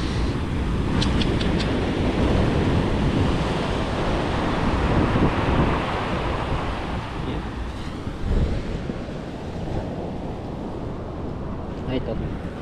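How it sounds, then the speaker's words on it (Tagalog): Heavy surf roars continuously with strong wind buffeting the microphone, loud and close throughout. "At kalaki pa naman ng alon, malakas ang agos."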